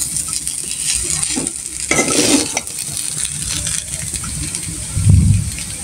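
Noodles are stirred as they fry in a pan on a home stove, with a steady sizzle, scraping strokes and a louder clunk of utensil against pan toward the end.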